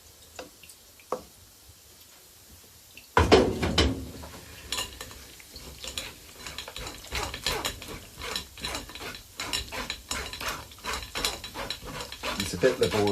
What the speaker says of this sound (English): this is now going to be put into a strainer bit by bit and pushed through this sieve to remove as much of the liquid as possible